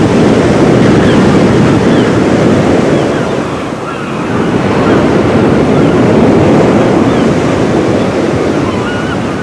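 Autumn storm surf pounds a cliff as strong wind roars across the microphone, a loud, continuous wash of breaking waves with a brief lull midway before the crashing swells return.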